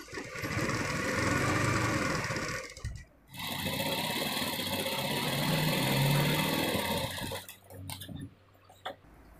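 Electric sewing machine stitching a full sleeve, a loud, steady high-pitched whir running in two long bursts with a brief pause between and a stop near the end.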